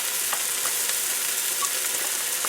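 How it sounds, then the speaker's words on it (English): Chopped garlic sizzling in a hot pan while collard greens with turkey leg are being cooked, a steady, loud frying hiss with faint crackles and stirring throughout, and no voices. "Alright, now I'm going to add the garlic."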